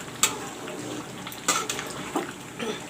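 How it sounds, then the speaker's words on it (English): Mutton curry with potatoes cooking in a pot, heard as soft simmering with a few sharp clinks of a spoon or ladle against the pot, spaced irregularly. "you can see the mutton curry cooking"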